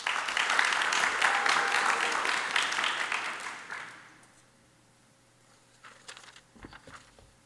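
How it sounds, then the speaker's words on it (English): Audience applause at a high school National Honor Society induction ceremony, a dense burst of clapping for about four seconds that fades out, followed by quieter scattered sounds. "I just want you to give a round of applause for yourselves"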